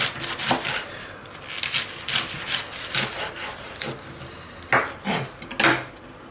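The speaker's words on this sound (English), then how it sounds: "going to slice them now, fairly thinly" Knife slicing leek green tops thinly on a chopping board, with a series of short, dry crisp cuts in uneven bursts, close and fairly quiet.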